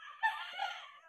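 A rooster on a poultry farm crows once, a short, fairly faint, clear call with a bright rising onset that trails off, heard alone against a quiet background.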